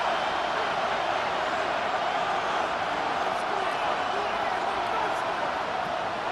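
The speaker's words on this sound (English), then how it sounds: "The crowd cranking it up another notch before 3rd" Crowd noise in the Madden 26 football video game builds before a third-and-long snap, a steady dense roar lasting throughout while a commentator talks over it.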